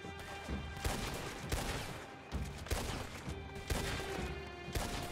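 Rapid hip-fire gunshots from Red Dead Redemption Online, sharp cracks in irregular bursts of two or three, loud and close over a steady game backdrop.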